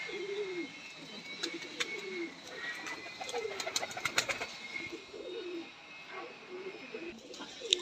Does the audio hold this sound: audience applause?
no